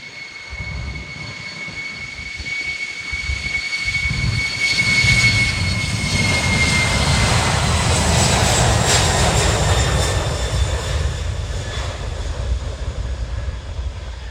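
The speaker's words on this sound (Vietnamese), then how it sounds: "mời mọi người chiêm ngưỡng pha cất cánh của chiếc Boeing 767 của FedEx cất cánh" A FedEx Boeing 767 takes off at Tan Son Nhat airport, its jet engines building into a loud, sustained roar with steady whining tones held over a broad rumble.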